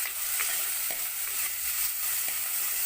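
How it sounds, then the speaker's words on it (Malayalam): Onion, tomato and chili frying in oil in a pan, with a steady hiss and sizzle and occasional soft scrapes of stirring, close and continuous with no talking. "തക്കാളിക്കും കൂടി ഇട്ടാണ് നമ്മൾ വറ്റിക്കുന്നത്, മുളകിട്ട് വറ്റിക്കാനായിട്ട്."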